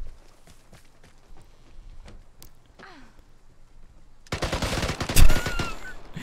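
Gunfire from a Thompson submachine gun in the game Vigor, a loud burst of rapid shots arriving after quieter in-game footsteps and ambient noise.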